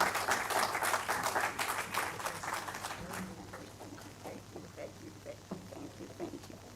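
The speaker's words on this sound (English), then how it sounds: "Please, a round of applause as she makes her way to the podium." Lecture-hall audience at an inaugural professorial lecture applauds steadily, the clapping dense at first and then thinning into scattered claps as the speaker reaches the podium.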